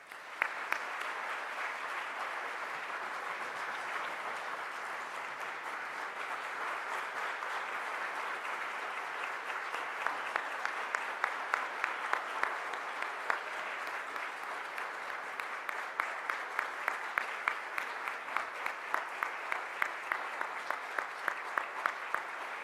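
Sustained audience applause at a Department of Justice ceremony honoring Mr. Bonilla: a dense, even wash of clapping that holds steady for over twenty seconds, with individual louder claps popping out in the second half.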